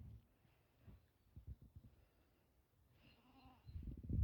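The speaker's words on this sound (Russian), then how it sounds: "Это козел, козлище." A young billy goat, about five or six months old, on a village farm bleats once in a short wavering call, fairly near, amid faint rustling and handling noise, followed by a louder thump.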